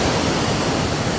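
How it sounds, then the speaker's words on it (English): A waterfall near old shrines at a clifftop roars as a steady, dense wash of broadband rushing water, close and even throughout with no voices. "Right here by the waterfall."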